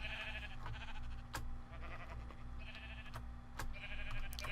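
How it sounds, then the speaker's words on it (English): Sheep bleat faintly several times on a sheep farm in the modded Minecraft game Feed the Beast, set against a steady low hum and game background noise. "This is a sheep farm that uses turtles to shear sheep."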